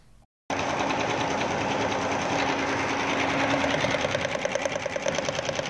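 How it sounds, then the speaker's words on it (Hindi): Embroidery machine stitching a running-stitch design, a loud, fast, steady mechanical chatter of the needle with a rhythmic clacking that grows more pronounced, close and continuous after a brief quiet start. "आइए दोस्तों अब इस डिज़ाइन को मशीन पर भी चलाकर देख लेते हैं"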